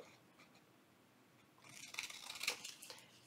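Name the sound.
trimming paper page with scissors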